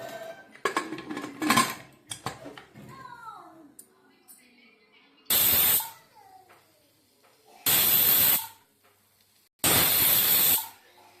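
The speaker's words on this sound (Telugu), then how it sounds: "చూడండి ఫ్రెండ్స్ విజిల్ వచ్చింది" A pressure cooker holding goat leg curry whistles in three loud, hissing bursts of about a second each, spaced a couple of seconds apart, after some clattering of pots and utensils up close.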